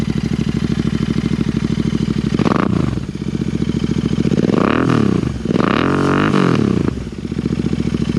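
Royal Enfield Interceptor 650 twin-cylinder engine fitted with S&S slip-on exhaust pipes, loud and close: a deep, throbbing idle broken by several throttle blips that rise and fall, with no talking.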